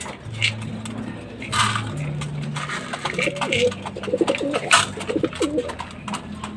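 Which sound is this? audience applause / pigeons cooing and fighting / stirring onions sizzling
pigeons cooing and fighting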